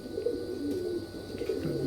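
Close by, a main breeder pigeon coos in a soft, low, throaty burble that rises and falls over a couple of seconds.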